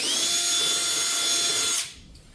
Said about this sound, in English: Drill into your floorboard.